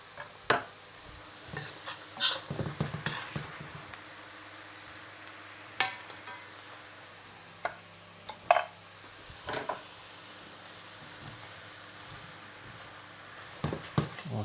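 Potatoes fry in a pan with a faint steady sizzle, broken by scattered clinks and scrapes of a utensil stirring them.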